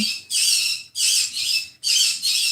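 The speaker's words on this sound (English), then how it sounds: "please pardon the birds throwing a screaming fit in the background" Pet birds squawk and scream indoors in three loud, shrill bursts separated by short gaps, harsh and piercing in the background.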